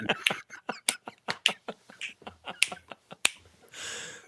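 A person snapping their fingers over and over in a loose, uneven rhythm, each snap a sharp, close click with short gaps between, ending with a burst of breathy noise.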